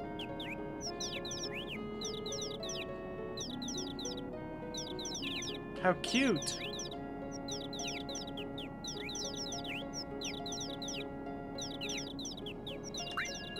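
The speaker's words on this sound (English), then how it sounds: "Heard the chirping birds." Repeated bright chirps from small birds twitter in the Final Fantasy VII game world over a steady ambient music bed, with one short spoken exclamation midway.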